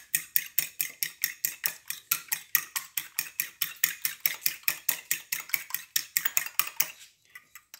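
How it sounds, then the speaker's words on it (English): Eggs for a chocolate cake are beaten in a bowl, a fast, even run of about thirty sharp clinking strokes of utensil against the bowl, close and loud, then stopping abruptly. "you want to beat up your eggs"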